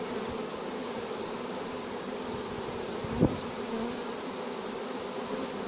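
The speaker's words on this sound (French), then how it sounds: "j'ai secoué et les abeilles se posent déjà sur le carton et elles battent déjà le rappel" Honeybees from a very large swarm shaken onto a cardboard box and settling there, a steady dense insect hum filling the whole stretch, with one brief louder knock partway through.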